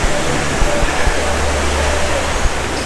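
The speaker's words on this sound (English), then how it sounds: "The water is coming in." Ocean waves washing in at Waikiki Beach, Hawaii, a loud, continuous broadband rush of surf with no distinct breaks, heard up close and alone.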